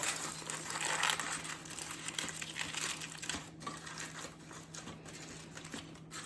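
Aluminum foil crimped around the edge of a pumpkin pie gives soft, close crinkling and rustling that comes in irregular bursts, quiet and continuous with a faint hum behind.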